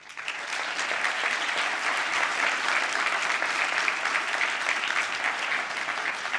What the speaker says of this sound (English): A round of applause to Laurent.